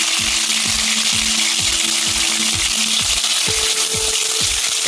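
Fish frying in hot oil, a loud continuous sizzle and crackle with a repeating low tonal hum pulsing underneath, no voices present.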